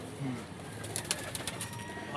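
Soft, low pigeon coos sound close by, with a few faint chirps over a quiet background hum.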